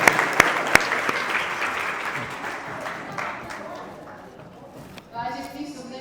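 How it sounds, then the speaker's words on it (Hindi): An audience at a spiritual discourse claps together in a dense, steady round of applause that slowly thins out, and then a voice starts talking near the end. "चलिए आपके लिए ताली बजाइए सब लोग।"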